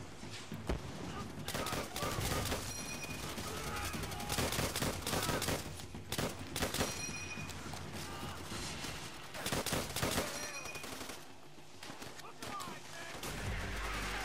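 Sustained machine gun fire in the World at War game, rapid dense bursts with scattered gunshots rattling almost continuously over the full stretch, loud and close, with speech in between.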